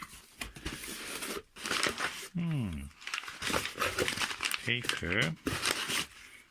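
Paper packaging crinkles and tears as a box of telescope eyepieces is unboxed, the rustling near and continuous beneath a person's intermittent talk.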